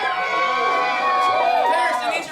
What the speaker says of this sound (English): which made everybody scream.